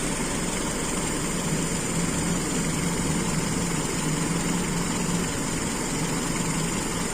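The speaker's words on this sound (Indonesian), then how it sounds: "Bisa tetap nyala di RPM serendah mungkin." Car engine idling at very low RPM during a stationary fuel consumption test with large and small carburetor jets, a steady close hum with faint vibration and no voices.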